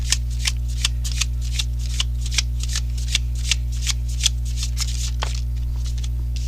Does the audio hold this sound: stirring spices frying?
no